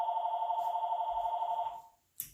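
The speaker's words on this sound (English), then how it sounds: "Yay, it's the phone." Telephone ringing indoors during a beginner belly dance class, a steady electronic warble that holds for about two seconds, stops, and is followed by a faint click.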